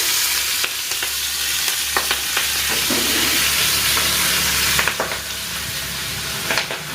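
Mixed winter vegetables crackle and sizzle steadily in a pan with cumin seeds and a little spice, close and loud, broken by repeated scraping stirs and a few sharper knocks against the pan.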